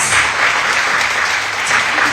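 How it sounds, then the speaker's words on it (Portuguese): A church congregation at a Sunday service claps in unison, loud, thick applause close by and steady throughout the short stretch. "Vamos glorificar o nome do Senhor com palmas pela vida do nosso irmão"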